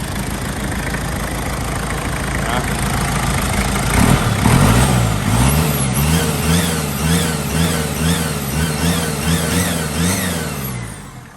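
A motorcycle engine with a burnt-finish header exhaust runs steadily nearby, idling then revving up around the middle into a rhythmic, pulsing throb that continues to the end.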